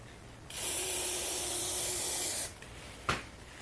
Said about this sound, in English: now we're going to spray some spray adhesive in here